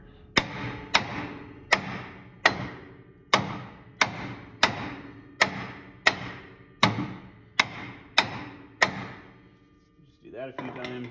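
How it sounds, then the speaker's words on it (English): A big hammer taps lightly around the front drum brake of a 1969 Buick Skylark GM A-body. Eleven close, ringing metallic knocks come at an even pace, each with a short decaying ring, and a brief scrape follows. "With the old big hammer, I just lightly wrap around here."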